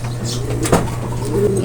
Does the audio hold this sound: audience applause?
no